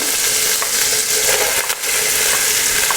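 Chopped beans stir-frying in a hot pan for fried rice give a steady loud sizzle, broken by a few scraping stirs, close and without talk.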